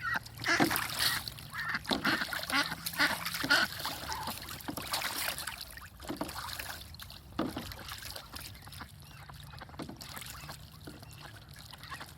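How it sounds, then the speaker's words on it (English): Ducks splashing in water with occasional honking quacks, busy and fairly close, the splashes scattered and irregular and strongest early before settling into softer paddling. "The ducks are eager."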